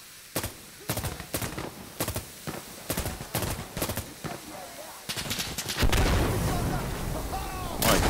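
Rapid gunfire in Insurgency: Sandstorm co-op play, a burst of sharp shots in an irregular rhythm, then a loud, sustained roar of heavier fire or an explosion near the end, with voices underneath.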